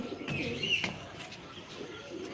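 Two pigeons being released coo and chirp softly nearby, a few quiet calls over a low background with no talking.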